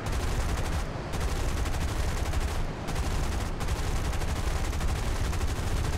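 Aircraft guns fire in War Thunder during a dogfight with a Bf 109 and B-25, a loud, rapid, continuous rattling burst over engine roar that briefly pauses a few times before resuming.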